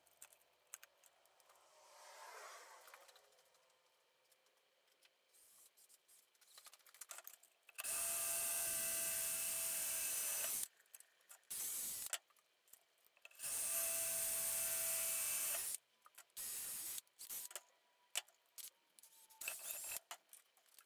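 Two loud bursts of a sharp 5.5mm drill bit boring holes, each lasting about three seconds, stand out against a quiet background, which also holds scattered clicks and handling noises.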